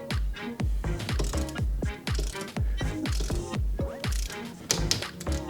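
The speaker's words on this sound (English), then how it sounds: "Then we're going to get our torque wrench, set it to 6 Newton meters" Torque wrench ratcheting as it tightens a bike seat post clamp to 6 newton meters, a steady run of crisp close clicks in rhythmic bursts with brief pauses between strokes.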